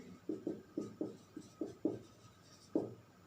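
Marker or chalk strokes on a board, a quiet, close series of about ten short scratchy strokes in an uneven rhythm, each a brief squeaky scrape, with no talking.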